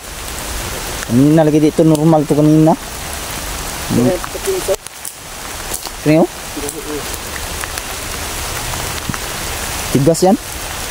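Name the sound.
heavy rain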